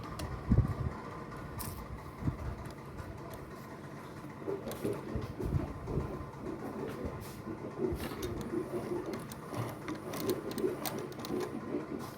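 A sewing machine stitches a suit in a tailoring shop, giving a soft, uneven mechanical rattle with scattered clicks and short bursts of running, fairly close and fairly quiet.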